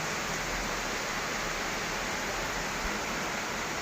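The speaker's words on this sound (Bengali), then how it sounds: "প্রচণ্ড বৃষ্টি হইতেছে।" Heavy rain pouring outdoors in a wind-driven downpour, a dense, unbroken wash of noise that stays loud and even throughout with no voices.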